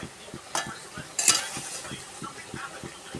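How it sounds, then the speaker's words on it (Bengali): Spiced Malabar spinach stalks sizzle in a pan with a little water while a spatula stirs them in regular scraping strokes, with a couple of sharper metallic clicks. "দিয়ে একটু সামান্য জল দিয়ে একটু ভালো করে কষিয়ে নেব"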